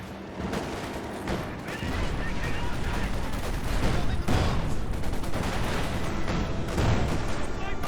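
Battle in Company of Heroes 2, with cannon fire and gunfire crashing in dense, repeated booms over a continuous roar of combat, loud and close throughout.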